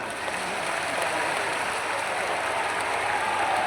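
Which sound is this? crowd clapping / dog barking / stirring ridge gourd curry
crowd clapping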